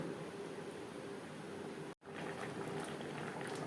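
A pot of fish curry with gathi kochu simmers on a gas flame, giving a steady, close bubbling and hissing boil interrupted by one brief dropout midway.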